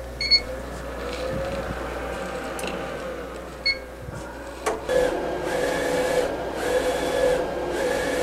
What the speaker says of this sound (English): Adjust my pinch rollers. And send my graphic to print.